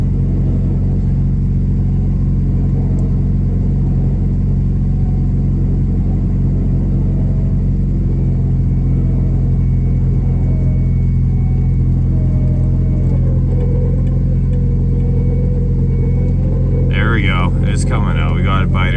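A stuck vehicle's engine held at a steady, loud rumble while it is winched out, a deep continuous drone with a brief rise near the end, and voices talking over it.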